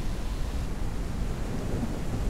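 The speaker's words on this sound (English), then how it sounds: "We're in a storm. Dude. Crazy. There's lightning." A thunderstorm in the sky survival game Forever Skies, heard while drifting on a blimp: a continuous heavy rumble of thunder and rain-like hiss, fairly loud and steady, with no speech.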